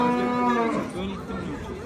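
Cattle at an outdoor livestock market low with one long, loud mooing call that slides downward, close by, followed by faint market murmur.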